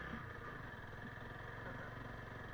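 Motorcycle engine running steadily while riding along a rough village road in Chhatiwan, Makawanpur, Nepal, a continuous mid-pitched drone with road and wind rumble, no talk.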